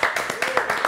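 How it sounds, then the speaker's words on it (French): A few hands clapping in quick, uneven bursts from a small studio audience on a French live show, close and fairly loud, with voices mixed in. "On va applaudir Cédo quand même."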